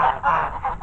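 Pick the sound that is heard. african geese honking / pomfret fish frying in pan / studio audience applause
african geese honking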